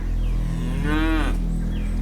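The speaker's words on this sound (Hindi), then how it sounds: "अरे अम्मा अड़ियल भैंस है वो" A stubborn village buffalo lets out a single drawn-out low moo over a steady rumbling background hum, near and loud.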